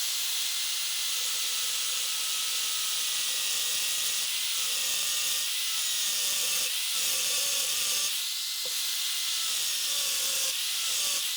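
A power tool cuts a slot between two drilled holes in a cracked cast iron exhaust manifold, making a loud, steady, hissing grind with a whining tone that runs nearly the whole time, with a few brief dips.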